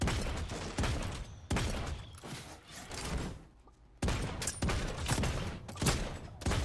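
Rapid bursts of video game gunfire crackle loudly and almost continuously, with brief pauses between volleys and a denser barrage toward the end.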